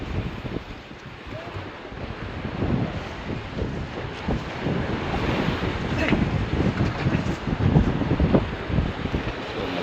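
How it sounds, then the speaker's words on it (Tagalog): Strong wind buffets the microphone in loud, gusting rushes over a roaring sea at night aboard a fishing boat, steady and close throughout with no voices. "So malakas ang hangin."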